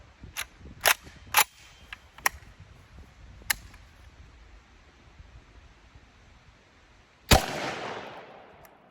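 Several sharp, distant rifle shots crack in a quick irregular series at cast iron skillets, then pause before one louder shot followed by a brief rattling tail.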